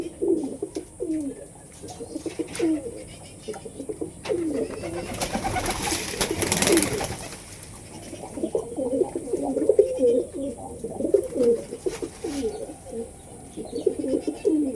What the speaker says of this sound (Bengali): এদিকে পায়রাগুলো সব ডাকাডাকি করছে